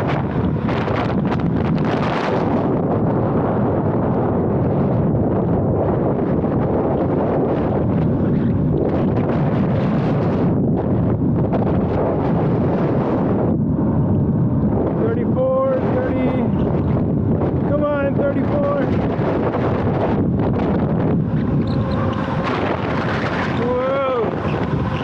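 Steady, heavy wind noise buffets the microphone while riding a Varla Eagle One electric scooter at maximum speed, a loud continuous roar with a faint voice briefly audible under it.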